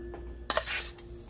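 A spoon clinks sharply against a container twice in quick succession while coffee grounds are spooned in, followed by a soft rustling settle, all close and fairly quiet.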